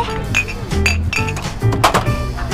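Drinking glasses clink together in a toast at a dinner gathering of coworkers, with several light chinks over a busy background of music and room noise.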